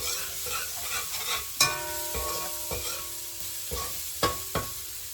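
Garlic sizzles steadily in a hot pan, a continuous hiss with faint pops and occasional stirring clinks and scrapes, close up with no voices.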